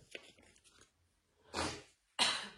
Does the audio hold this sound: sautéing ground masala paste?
no